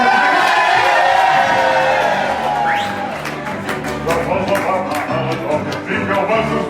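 Children in a crowd at Port Orleans Riverside Resort's River Roost shout out loudly together, a brief burst of overlapping voices that fades into scattered calls and murmur.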